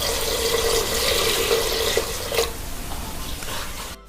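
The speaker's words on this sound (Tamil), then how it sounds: "இப்போ இதுக்கு தேவையான தண்ணி ஊற்றிப்போம்." Water pours into a cooker holding mutton sautéed with biryani masala, a loud gushing splash that runs steadily and then tapers off, with faint sizzling beneath.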